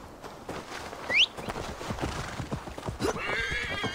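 A horse in Assassin's Creed Valhalla gives a sharp rising neigh amid a busy patter of hooves clip-clopping close by, with other game sounds layered underneath.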